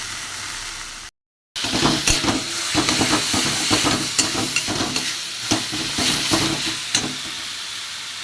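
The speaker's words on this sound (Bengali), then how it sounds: "একটু কষিয়ে নেবো মশলাটা, গন্ধটা যাতে চলে যায়।" Spice paste with cumin-coriander powder sizzles and hisses in a hot pan, stirred with repeated scraping strokes, continuous and close, after a brief cut of silence near the start.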